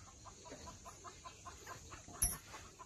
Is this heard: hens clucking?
yes